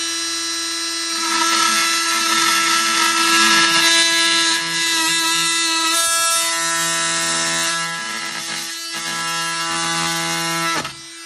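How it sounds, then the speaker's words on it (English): A Milwaukee M12 Fuel oscillating multi-tool makes a plunge cut, its loud, steady high-pitched buzz rising as the blade bites in, then dropping and cutting off abruptly at the end. "Let's go ahead and get our plunge in."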